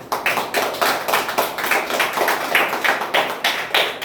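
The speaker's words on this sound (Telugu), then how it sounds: "అందరూ క్లాప్స్." An audience applauding at a chess tournament prize distribution, a brisk close round of many hands clapping in a steady patter for about four seconds, with no talk over it.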